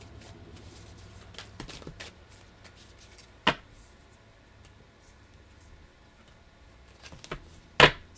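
Affirmation cards are shuffled by hand in quiet, scattered riffles and taps, close up, with a few sharper snaps of the deck standing out; no talking.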